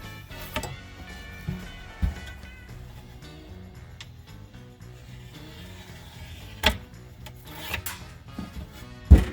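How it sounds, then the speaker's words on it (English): A new razor blade slices along the excess edge of window trim on a Holden Monaro rear quarter, giving quiet scraping rubs punctuated by a few sharp ticks and clicks, close up with no talk. "We're just going to trim the excess off, running down here."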